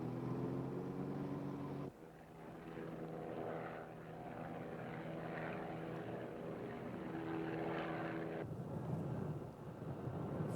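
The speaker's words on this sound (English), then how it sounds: "Feels like we're in the plane." An airplane engine drones in flight, a steady propeller hum with shifting harmonic tones, quiet and continuous, with no speech; heard as part of a film soundtrack.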